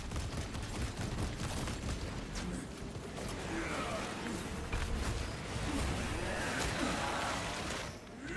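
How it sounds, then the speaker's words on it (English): A basic bolt rifle fires in a Warhammer 40K video game, its rapid bursts of gunfire cracking repeatedly over a dense, constant wash of battle noise at a moderate level, with faint whooshes between volleys. "We're using a basic ass bolt rifle right now."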